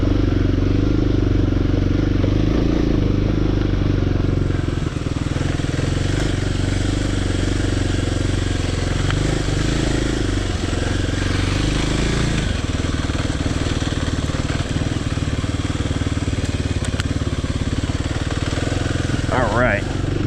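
Kawasaki KLX300 dirt bike engine rumbling steadily at low revs in first gear while creeping over rocky terrain, a continuous close drone with clattering from the rough ground and a voice talking intermittently.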